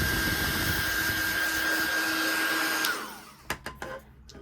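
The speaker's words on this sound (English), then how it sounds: "So that is what heat embossing looks like." A heat gun blows a steady, loud whir while it melts embossing powder on pink card panels to a metallic shine, then cuts off near the end and leaves a few light clicks and handling taps.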